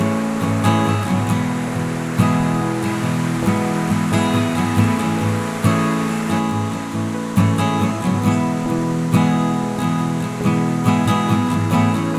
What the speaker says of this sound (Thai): เป็นแกงหินกลางลำธารห้วยหลวง ที่มีท่าน้ำไหลผ่าน